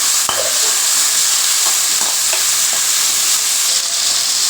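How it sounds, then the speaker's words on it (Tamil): Cashews and roughly chopped tomatoes sautéing in a pan while making a roasted-ground chicken kuzhambu, a steady loud sizzle and frying hiss with a few soft stirring clinks throughout, no talking. "ஒரு பத்து முந்திரி பருப்பு ரெண்டு தக்காளி நான் ரஃபாக தான் கட் பண்ணி வச்சுருக்கேன் இதை போட்டு இதையும் நல்லா வதக்கலாம்"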